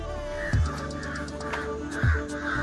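Crows caw overhead outdoors, with two loud, short harsh calls standing out near the start and middle against a steady background hum and faint bird sounds, with no one talking.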